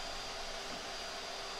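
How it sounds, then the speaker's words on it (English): A vacuum sucking yellow jackets out of a ground wasp nest, a steady, even roaring hiss of airflow held at constant volume with no voices. "Another reason why I like using my vacuum and the strength that it provides is when I'm sucking the adults out, it doesn't pick up the comb."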